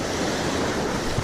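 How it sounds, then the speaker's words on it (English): Rough stormy ocean surf crashing on a beach during surf fishing, a dense loud wash of breaking waves mixed with wind buffeting the microphone, continuous and close with no speech. "I'm getting knocked over by this goddamn wave"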